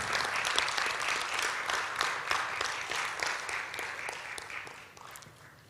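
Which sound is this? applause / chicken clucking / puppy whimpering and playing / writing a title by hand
applause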